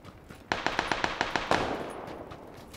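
An automatic weapon fires a rapid, evenly spaced burst of about eight close, loud shots in the military shooter game Squad, then the echo trails off into a quiet background.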